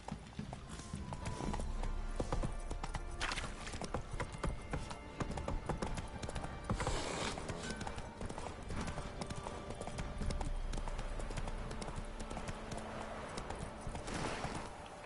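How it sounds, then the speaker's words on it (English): Hooves of a horse clip-clopping steadily in The Witcher 3: Wild Hunt, close and continuous over game ambience, with a brief voice urging the horse on. "Come on, Roach, work with me here."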